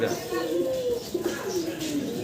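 Two pigeons coo in soft, low rolling calls, repeated in a near, continuous series over a noisy room background.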